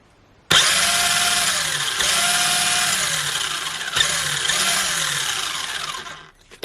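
An RXAZ 35T brushed electric motor starts abruptly and spins with a steady whirring hum, pitch wavering in slow cycles, then winds down and stops.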